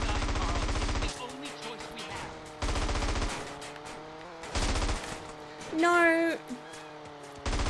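Gunfire in GTA San Andreas: loud, rapid bursts of shots in repeated volleys, some with a ringing tail, while a person talks between and over them.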